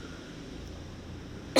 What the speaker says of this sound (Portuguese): Tô com uma tosse desde ontem.